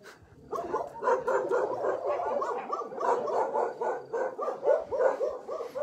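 Many dogs bark and yip at a dog shelter, a dense, continuous chorus of overlapping barks, some near and loud, others further off, with no break across the clip.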